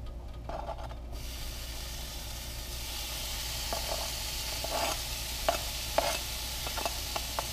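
Bacon cooks in an Actifry fryer with a steady sizzling hiss, broken by a few scattered pops and scrapes from the stirring paddle against a constant low motor hum.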